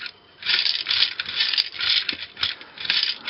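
A Bachmann operating gravel car tipping out its ore load via a lever, a close rattling cascade of small pieces in repeated bursts as the wagon is rocked back and forth.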